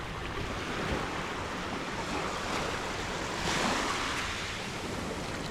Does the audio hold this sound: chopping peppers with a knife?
no